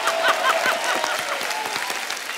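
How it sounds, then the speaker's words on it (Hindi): Studio audience on a comedy talk show claps and cheers in a steady wash of applause with a few whoops over it, moderately loud and close for the whole stretch. "एक बार हमारी ऑडियंस के लिए भी ताली हो जाए।"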